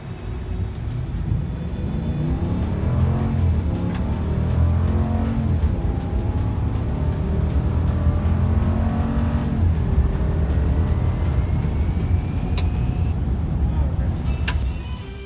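Engine of a 2019 Ram Power Wagon with its 6.4 Hemi V8 under hard 0 to 60 acceleration, a loud steady roar and cabin rumble filling the whole stretch, with people talking over it.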